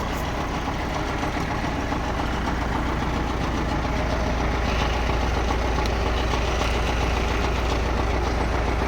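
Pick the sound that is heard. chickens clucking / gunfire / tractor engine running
tractor engine running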